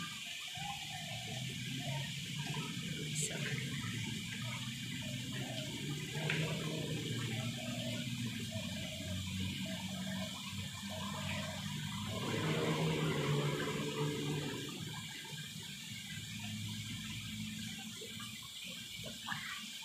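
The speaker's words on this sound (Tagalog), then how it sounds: "may fountain doon, oh" Water splashes from a fountain at a shopping mall, a soft, steady trickling and splashing heard from a short distance, with gentle swells and faint background activity.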